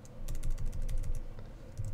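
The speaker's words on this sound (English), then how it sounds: "we can start typing" Quick, close key clicks come in a steady run as text is typed on a computer keyboard into a template in laser engraver design software, with a short pause near the end and no speech.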